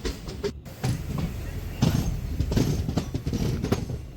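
Shornur to Kannur express train pulling out of Feroke station, a steady rumbling roll with rhythmic wheel clatter and scattered clanks, moderately loud and continuous, with faint voices in the background.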